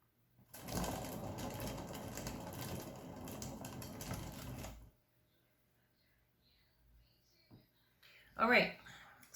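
A paint-pour spinner whirs steadily with a motor hum for about four seconds, spreading a swiped paint pour, then stops, leaving near silence and a brief knock and rustle at the end.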